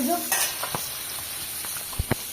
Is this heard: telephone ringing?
no